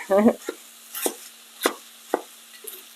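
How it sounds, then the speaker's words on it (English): A spatula chops tofu into small cubes in a skillet, four or five sharp, distinct taps against the pan spaced about half a second apart, close and clear after a brief vocal sound at the start. "I'll just use my spatula to chop it up into small cubes"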